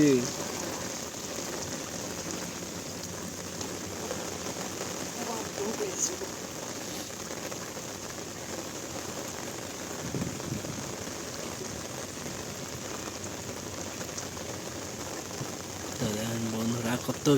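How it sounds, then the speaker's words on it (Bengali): Heavy rain pours down steadily for the whole stretch, a dense continuous patter on surfaces outdoors while eel traps are being lifted, with a voice talking at times over the downpour. "ভালোই বাম্পার বৃষ্টি হচ্ছে"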